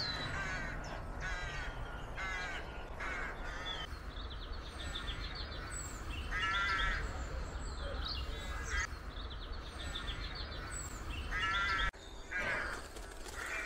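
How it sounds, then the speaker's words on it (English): Rooks, crows and jackdaws call on a north Exmoor coastal walk, repeated harsh caws and chatter in bursts from mid-distance over a constant rushing outdoor background. "With all the rooks and crows and jackdaws, we don't need any background music."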